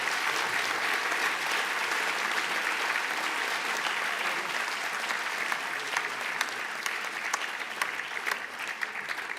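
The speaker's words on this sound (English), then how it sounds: "A round of applause for all of them." An audience at the Greenham Trust Charity Awards gives sustained applause, a dense, steady wash of clapping hands that fills the hall without pause.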